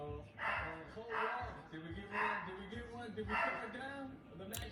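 A puppy in a cage gives a series of short, high yips and barks at a steady rhythm, close by and moderately quiet, with some whimpering between.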